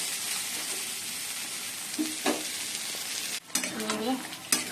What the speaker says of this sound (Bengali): চিকেনটা কষাচ্ছি।